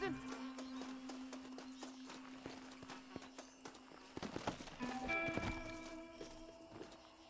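Horse hooves clip-clop at a walking pace in the Red Dead Redemption video game on Xbox One, steady and fairly near, with game music tones and a voice speaking over them.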